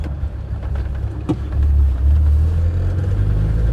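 A tuned Land Rover Defender Td5 90 diesel fitted with a Falcon hybrid turbo pulls out onto a main road, its engine rumbling up in a steady, close, rising drone with a brief whine around the middle.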